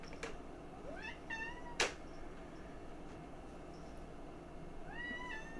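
A cat meows several times in a quiet indoor room. The rising calls come in a short cluster early on and return once near the end, fairly faint over low background hiss.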